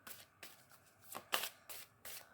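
Tarot cards are shuffled by hand in quick, crisp bursts, about half a dozen riffles and slaps spaced through the moment, quiet and close, with no talking.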